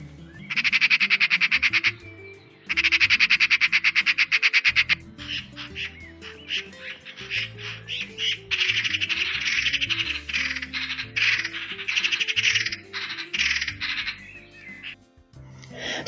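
Harsh, rapid chattering magpie calls in long rattling bursts, loud and close, with other squawks and calls mixed in behind.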